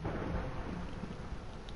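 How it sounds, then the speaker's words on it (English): Steady rain with a deep rumble of thunder in PlayStation Minecraft, a dense continuous wash of rainfall over a low, rolling boom, no voices. "Yeah, and it's raining."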